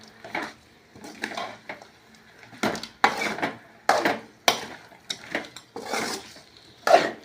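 A spoon stirring chicken pallipalayam in a metal pan, repeated scraping and clanking strokes at an uneven rhythm, close and fairly loud with quiet gaps between the strokes.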